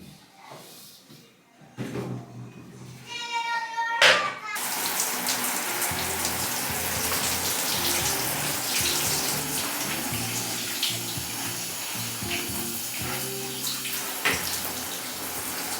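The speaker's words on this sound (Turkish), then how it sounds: "Banyoya götürüp bir güzel banyoda tertemiz yıkayacağız şimdi" Dusty balcony items are washed in a bathroom under running water, a steady splashing stream poured close by after a short quieter start, with intermittent clatter of items being handled.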